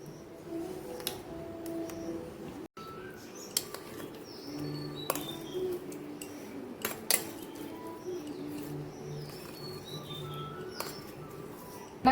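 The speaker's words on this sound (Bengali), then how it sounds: "আমি ছোট ছোট করে পিস করে নিচ্ছি।" Knife strokes cut mango into small pieces, giving sharp, faint clicks and taps scattered at an irregular pace against quiet background hum, with no voices.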